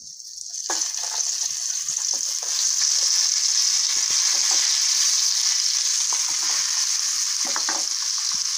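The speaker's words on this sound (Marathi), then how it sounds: "तेल गरम झालेलं आहे, आता मी त्यामध्ये घालणार आहे ही भरलेली वांगी।" Stuffed brinjals sizzle and crackle steadily in hot oil in a pan, a loud, continuous frying hiss with small pops, close up and without talk.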